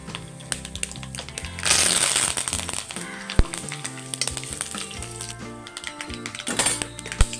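Curry leaves and chillies land in hot oil, already popping with mustard seeds, for a ginger curry. They spit in two sharp bursts of close sizzling with crackles and pops between.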